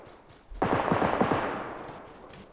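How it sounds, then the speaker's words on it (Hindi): A single loud burst of automatic gunfire in the video game PUBG Lite, a rapid string of about eight shots whose echo fades over the next second and a half. "फायर हो रहा है 90 ईस्ट।"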